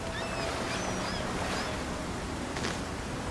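A waterfall in the video game Avowed gives a steady, full rushing roar of falling water that holds at an even level throughout, with no voices.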